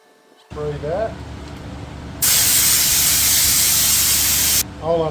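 An aerosol can sprays material during an air conditioner install on a Bayliner 2450 boat, a loud two-second hiss with voices talking just before and after.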